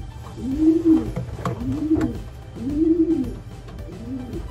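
A blue bar racing pigeon hen and others coo in repeated deep, rolling calls, four clear swelling coos close to the listener.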